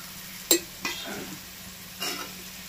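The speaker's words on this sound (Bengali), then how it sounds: "এবার ভাতটা মিশিয়ে দেবো।" Cooked rice being mixed into red chicken curry in a pan over a low flame, heard as a soft background sizzle with a few distinct spoon knocks and scraping stirs, close and quiet, without speech.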